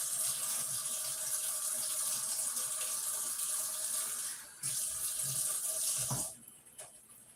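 Running tap water pours steadily into a sink as food is rinsed before going into a cooking pot, a continuous broadband gush that drops off sharply near the end when the flow is shut off.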